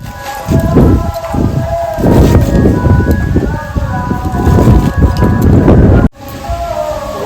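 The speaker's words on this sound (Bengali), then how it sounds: "প্রচন্ড হাওয়া, কি হবে বুঝতে পারছি না" Strong wind buffets the microphone in loud, rumbling gusts, with a brief dropout before the roar resumes.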